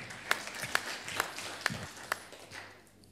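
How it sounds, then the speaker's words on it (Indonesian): A church congregation claps in a slow, steady rhythm: about five sharp, faint claps spaced evenly in a quiet room, with no talking. "Tepuk tangan buat Tuhan."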